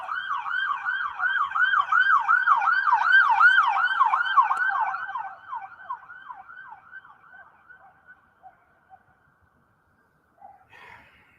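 A wailing emergency siren cycles rapidly up and down, loud at first and then fading steadily into the distance until it is gone.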